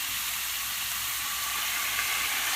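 Sesame oil and soy sauce hitting a hot pan give a steady, continuous sizzle, close and fairly loud, with no voices over it.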